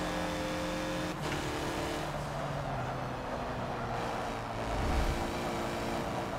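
A race car engine in the video game Forza Motorsport drones steadily at sustained speed, with a brief gear shift and a rise in revs near the end, heard alone without talk.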